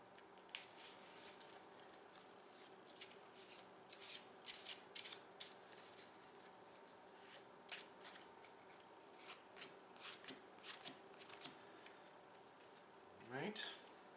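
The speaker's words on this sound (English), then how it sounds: "I need to shuffle my deck here and do this all over." Deck of cards for the Legendary Encounters: Alien board game being shuffled by hand, rapid papery riffles and slides in repeated bursts, close and fairly quiet, with a brief voice near the end.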